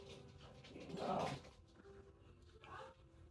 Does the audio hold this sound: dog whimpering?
yes